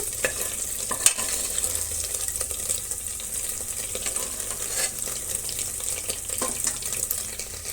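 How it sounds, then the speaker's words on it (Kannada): Paneer frying in oil for a biryani produces a busy, close sizzle with intermittent clicks and scraping stir noises throughout, no one talking. "ತುಂಬಾ ಹೊತ್ತು ಫ್ರೈ ಮಾಡ್ಕೋಬಿಡಿ ಪನ್ನೀರನ್ನು"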